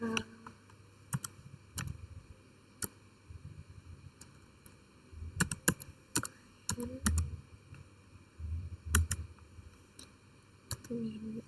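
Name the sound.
typing a command on a computer keyboard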